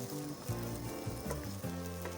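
Close, continuous sizzling of onion frying over medium heat in a pan, with a few soft stirring knocks.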